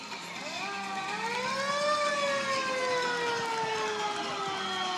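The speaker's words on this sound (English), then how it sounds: "look at that vintage ambulance with, of course, the old style siren on top" A wailing old-style mechanical siren on a vintage ambulance rises and slowly falls in pitch, steady and fairly loud, heard over street noise at a pride parade.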